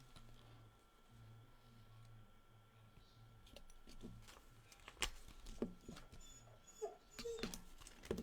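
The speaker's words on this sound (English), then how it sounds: "This dog cries like this, and Justine gets up and walks him around" A dog named Krause whimpers and cries to be let out of a warehouse, with soft low whines early on, then sharper yips and clicks that grow louder and more frequent toward the end, over faint background hum.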